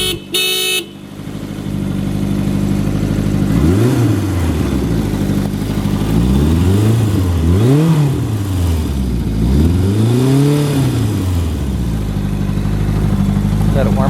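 A 1984 Kawasaki GPz ZX 750 Turbo motorcycle engine, recently revived from museum display, idles loudly and steadily up close, then revs up and down in three or four rising and falling swells before settling back to idle.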